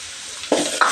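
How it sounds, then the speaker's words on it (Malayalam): Ginger and garlic paste hits hot oil in a pan for a Kerala-style crab masala, giving two quick bursts of close, crackling sizzle as it is stirred in, with no voices. "ഇതിൽ നമ്മളിപ്പോൾ ചേർക്കാൻ പോകുന്നത് ഇഞ്ചിയും വെളുത്തുള്ളിയും"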